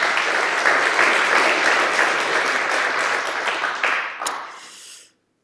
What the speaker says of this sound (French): donc on l'applaudit quand même